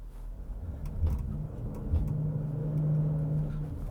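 A 2021 Chevrolet Trailblazer AWD engine labours off-road with a steady low drone, surging in a few heavier pushes and holding a strained tone throughout, no voices over it.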